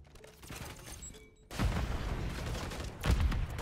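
Gunfire in a Call of Duty MW3 multiplayer match comes in two sharp, loud bursts about a second and a half apart, cutting through quieter game ambience.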